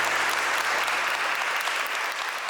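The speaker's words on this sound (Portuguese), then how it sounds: "Então, a nossa salva de palmas" Wedding guests applaud the newly married couple in a steady, dense round of clapping from a sizable crowd, even in loudness throughout, with no talk over it.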